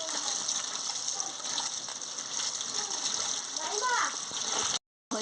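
Bhatua fish being rinsed in water, with gushing and splashing water and occasional clinks running steadily throughout, close by, before a brief dropout near the end.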